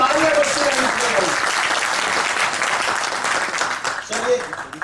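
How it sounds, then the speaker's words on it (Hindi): Audience applause during a stage play, dense clapping at fairly close range that carries on steadily and then thins out toward the end, with indistinct voices underneath. "तालियां बजती रहें"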